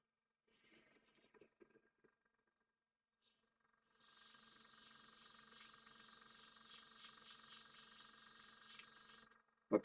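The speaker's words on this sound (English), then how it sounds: "I prefer the trigger airbrush because on the back, you know, once you set it at the back, it's pretty constant." A trigger airbrush sprays paint onto an Airfix 1/72 Lancaster B.1(F.E.)/B.III model kit, giving a steady, even hiss that starts after some quiet handling noises and runs unbroken for about six seconds.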